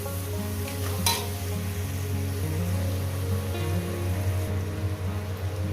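Onions with turmeric powder frying and being stirred in a pan, a steady close sizzle with a low hum running throughout and a brief clink of utensils near the start.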